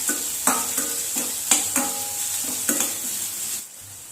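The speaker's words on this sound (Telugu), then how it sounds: "ఘీలో మనం ఆనియన్స్ని ఫ్రై చేసుకుందాం." Onions fry in ghee for a cashew paneer butter masala, giving a steady close sizzle broken by a handful of sharp scraping clinks as a spoon stirs the pan roughly every second.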